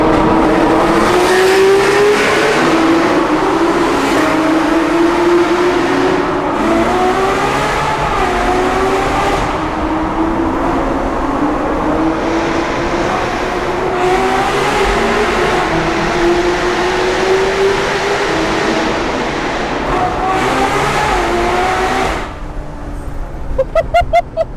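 A Ferrari 812 V12 engine revs loudly and close for over twenty seconds, with repeated rising and falling pitch sweeps as it accelerates and eases off. The sustained roar dominates until it drops away near the end.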